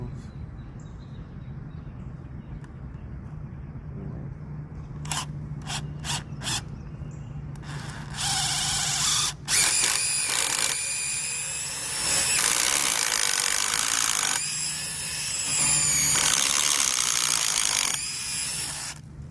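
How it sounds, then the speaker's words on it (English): Power drill boring holes into cedar fence posts cut for a farm fence H-brace, a loud sustained grinding whir rising after a few sharp clicks, with brief pauses and rough chattering as the bit bites into the wood. "Go ahead and get our holes drilled now."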